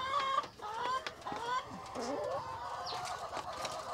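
Dominant CZ F1 hens on a Cebu poultry farm cluck and squawk at close range during feeding, a busy overlapping chorus with a few faint voices in the background.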